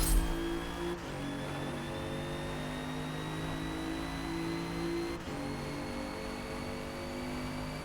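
A 2017 Alfa Romeo Giulia engine in the Forza Motorsport racing game at Grand Oak, revving up through two rising sweeps with a quick drop at each gear change, steady and close, with no talk.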